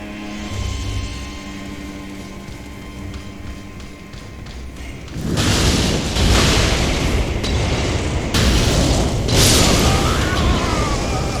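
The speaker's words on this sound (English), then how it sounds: "Somehow I died from an explosion there." Explosions in the video game Elden Ring, heard as loud, dense bursts of noise that erupt about halfway through after a quieter stretch, with a second surge a few seconds later and a sustained rumbling roar between them.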